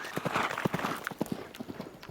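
A horse's hooves clip-clop in an even walking rhythm, a run of crisp, moderately close knocks on a hard surface.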